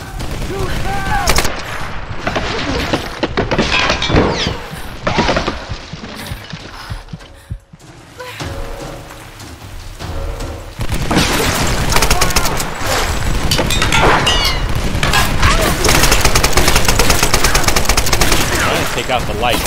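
Sustained heavy gunfire in the Tomb Raider video game, with dense rapid bursts and loud shots that pause briefly midway and then resume as continuous volleys.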